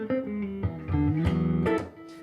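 Electric guitar run through a heavily set compressor pedal, playing a short phrase of sustained notes with an even, squashed level, close and alone without any talk.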